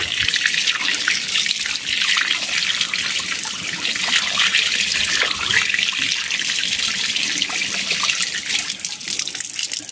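Tap left running at an outdoor bathroom on a farm, fed by spring water, a loud steady hissing splash that continues unbroken throughout.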